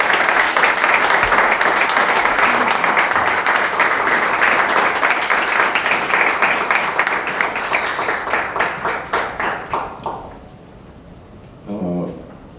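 Audience applause at a Korean church press conference for a large united worship service, steady dense clapping from a crowd that swells, then thins into scattered claps and fades out near the end.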